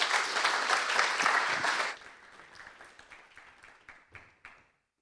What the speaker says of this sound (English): A warm round of applause, please, for you.